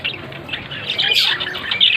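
A male budgerigar squawks in its cage, with sharp harsh chattering calls in quick irregular bursts, moderately close, and no voices alongside.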